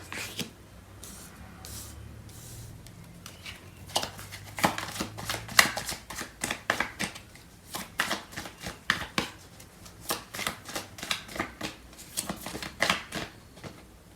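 Tarot cards shuffled by hand during a reading, a run of crisp riffling snaps and soft flutters in quick irregular bursts, close and clear with no talk over them.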